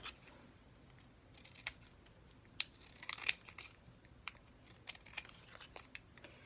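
Scissors snip and trim paper for handmade paper clips, a scattered run of faint, crisp cuts with a few sharper snaps, close by on a quiet background.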